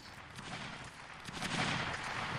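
Ragged musket volleys crackle on and off across a Mount & Blade: Napoleonic Wars battlefield, with dense overlapping shots at mid distance swelling toward the end and no voices over the din.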